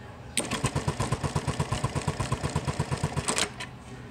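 A sewing machine spot-tacks drapery with monofilament thread, running in a quick, even burst of about fifteen stitches for roughly three seconds before stopping, close and clear with no talking.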